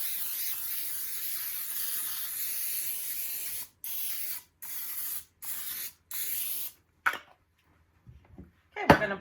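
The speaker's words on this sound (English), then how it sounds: "Here's the pan that we are going to bake it in. I need to spray it down." Cooking spray sprayed onto a baking pan for pumpkin bars: one long continuous hiss, then five short bursts in a row, followed by a few faint kitchen clatters.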